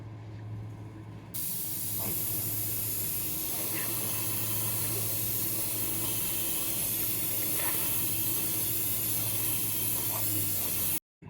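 Airbrush spraying gloss enamel paint onto the underside of a model locomotive tender, a steady soft hiss running continuously at close range with a low hum beneath, stopping abruptly at the end.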